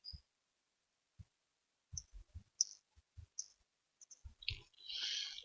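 Soft, scattered clicks and taps of keys pressed at an uneven pace, quiet and close, ending in a short burst of hissy noise.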